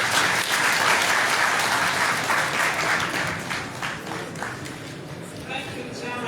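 Applause in a High Court hall at a legal-year ceremony, a sustained round of many hands clapping that thins and fades toward the end.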